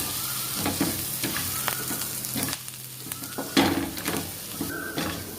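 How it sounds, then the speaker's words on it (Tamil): Masala for bitter gourd kuzhambu sautéing on a low flame, a steady close sizzle with repeated spoon scrapes and clinks against the pan and a brief stronger burst partway through, with no talk. "இதெல்லாமே வந்து மசாலாலாம் பச்சை வாடை போகிற வரைக்கும் லோ ஃப்ளேமில் வச்சு வதக்கிக்கலாம்"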